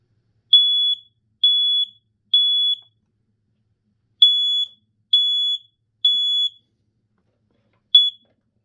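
BRK 4120 AC-only smoke alarm under test, loud piercing beeps in a temporal pattern: three evenly spaced beeps, a pause, three more, then a single beep starting another cycle, alone in silence.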